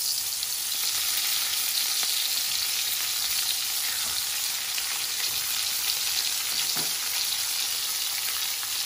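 Gambas (prawns) sizzle steadily in a hot frying pan, a dense, even crackle that holds loud and close throughout with no voices.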